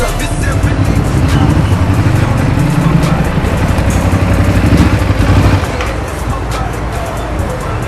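A big bike motorcycle rides in with a loud, close engine roar and broadband road rumble that holds steady for about five seconds, then eases slightly as it settles.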